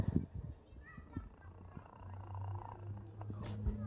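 A ginger street cat purrs up close with a low, steady rumble, interrupted by soft rustles and small bumps as it nuzzles; no clear speech over it.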